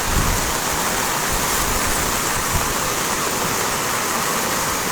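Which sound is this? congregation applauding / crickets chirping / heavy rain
heavy rain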